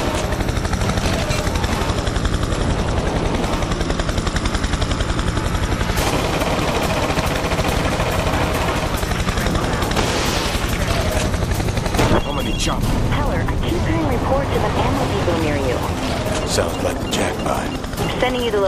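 Continuous rapid gunfire and explosions from the video game Prototype 2, with a constant droning engine and voices talking over the action throughout.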